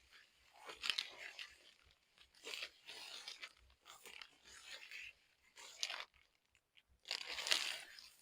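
A rat gnaws at bait in a rat trap on a cold night, giving repeated faint, close crunching bursts at irregular intervals with quiet gaps between them.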